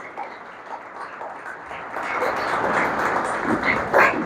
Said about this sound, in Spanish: Aplauden al Señor fuerte.